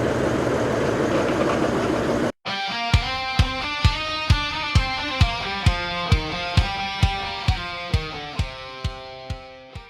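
A heritage railway train at Fife Heritage Railway in Leven, Scotland: a loud, steady mechanical hum with sharp, evenly spaced knocks repeating roughly twice a second, preceded by a rougher broadband rumble that cuts off abruptly.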